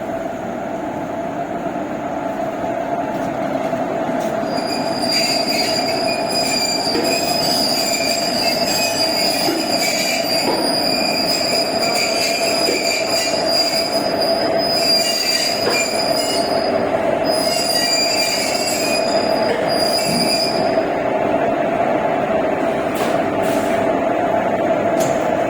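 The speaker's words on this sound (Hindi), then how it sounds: "दूसरा लोको आगे लग रहा है हमें।" Wheels squeal with sustained high, ringing tones over a steady rolling rumble as a second locomotive couples onto the Muri Express at Hatia railway station in Ranchi. The sound is close and continuous, with no talk.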